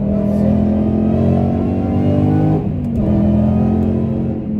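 A 2014 Mustang GT V8 engine drones loud and close in a fourth gear pull, a steady harmonic roar with rising pitch, then dipping briefly as the revs drop before climbing again.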